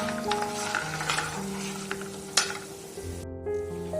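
Asafoetida and spices fry on a low flame for mango chitranna, giving a soft, steady sizzle with light stirring scrapes over faint background music.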